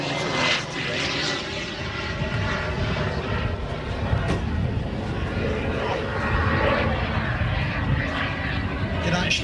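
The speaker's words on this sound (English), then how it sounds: "It's got this unusual sound, hasn't it? Because there's like, you can hear the turbine, but it's the little two engines." A twin-boom model aircraft with two small petrol engines and a central turbine flies at an airshow at Elvington, its buzzing engines and turbine whine blending into a continuous loud drone, with voices talking underneath.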